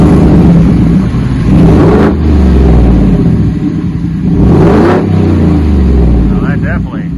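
A 2025 Ford F-150 pickup with aftermarket exhaust tips revs hard twice with a deep, throaty rumble, rising and falling between steady idling, loud and close.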